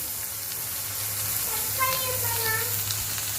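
Ginger garlic paste sizzles in a pan of frying onions, a soft steady hiss with a few brief stirring scrapes, faint and close.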